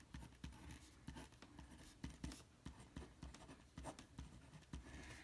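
A pen scratching out a quadratic equation during a completing-the-square math lesson, quiet continuous strokes and taps with a steady irregular rhythm, close and faint with no talk.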